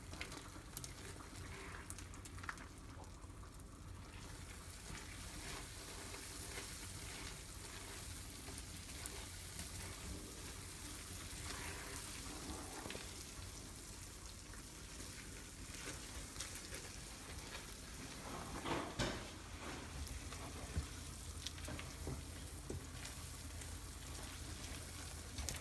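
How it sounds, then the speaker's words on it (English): Hot peanut brittle candy with butter being stirred in gives a quiet, steady sizzle and bubbling hiss that runs throughout, with a few faint scrapes near the end. "you're going to add 2 tablespoons of butter and stir that in"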